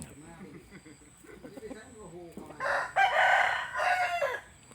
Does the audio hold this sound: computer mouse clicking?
no